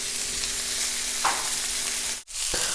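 Meatballs browning in a hot pan, a continuous close, even sizzle with a soft spatter and a brief dip as they are turned onto their sides.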